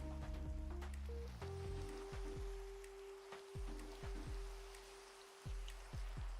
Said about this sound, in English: The rain is very nice.